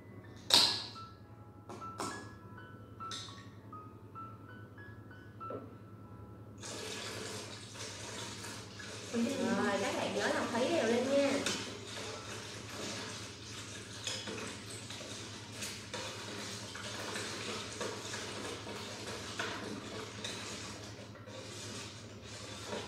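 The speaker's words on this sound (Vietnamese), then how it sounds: "Khuấy đều nha các bạn, mình chỉ cần khuấy đều thôi" A spoon stirs a yogurt mixture with fresh unsweetened milk in a container, giving soft repeated clinks and swishing, with a brief louder scraping stretch in the middle and no talk.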